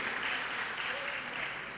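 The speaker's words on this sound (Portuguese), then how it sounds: "Se você pode, aplauda o Senhor." Congregation applauding during a church worship service, a soft, continuous patter of many hands heard from a distance, even and unbroken over a short stretch.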